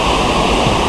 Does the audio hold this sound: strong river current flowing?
yes